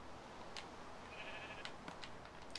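Sheep in the Minecraft video game give a few short bleats over a steady background hiss, faint and spaced out.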